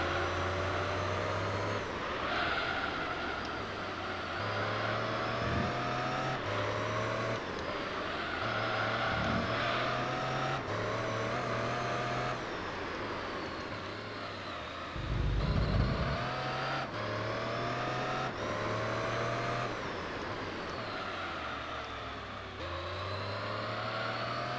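Race car engine in the Gran Turismo 3 video game, a steady loud drone with repeated shifts in pitch as the car accelerates and brakes through corners, continuous throughout with no talking.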